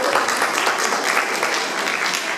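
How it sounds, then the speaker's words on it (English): A crowd claps continuously at a community fundraising event for earthquake relief, with dense, steady applause filling the space at a fairly loud level. "I want to hear applause if you brag about your kids."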